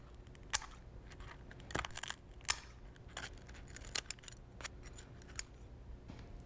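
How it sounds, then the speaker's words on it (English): Kitchen scissors snip crispy pork crackling (cuerito) into small pieces, giving a series of sharp, close crunchy clicks at irregular intervals over a low background. "what I'm going to do is use my scissors to cut up little pieces"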